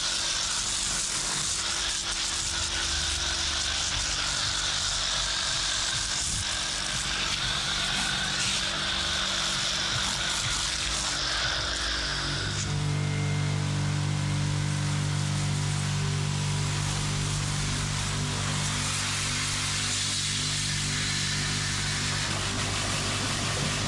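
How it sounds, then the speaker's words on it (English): A pressure washer rinses the engine compartment of an abandoned tow truck, a loud continuous hiss over an engine drone that changes character partway through. "Maximum pressure here, creating a fog of water and dirt."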